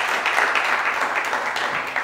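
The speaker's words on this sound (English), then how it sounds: "let's give a huge round of applause to both our contestants" Audience applause for two school quiz contestants in a televised quiz round, a steady, dense wash of clapping holding at even loudness throughout without pause.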